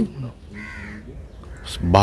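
A crow caws at the Haiderpur wetland, one or two harsh calls in the middle, with someone talking just before and after.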